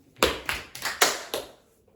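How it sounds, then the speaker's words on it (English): Hands clap in a classroom, five sharp, evenly spaced claps in quick succession, close and clear against a quiet background. "Clap your hands."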